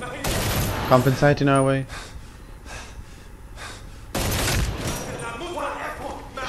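Shotgun blasts in Medal of Honor Warfighter, two loud bursts of gunfire separated by a quieter stretch, with someone talking and breathing over the shooting.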